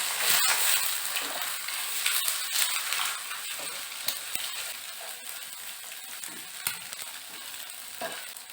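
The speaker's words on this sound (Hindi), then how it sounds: "तो यहाँ पे अंडे को मैंने मीडियम फ्लेम पे लगभग 1 से 2 मिनट तक फ्राई कर लिया है।" Eggs frying in a pan over medium flame, a continuous bright sizzle with occasional sharper crackles and pops, close and steady, without talk.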